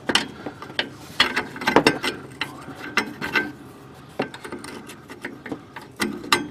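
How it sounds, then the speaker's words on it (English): A wrench working a 14 mm nut on the frame of a 1985 Ford Ranger, a close series of irregular ratcheting clicks and metallic knocks in short bursts. "I've got a wrench fitted to that nut, wedged here into the frame"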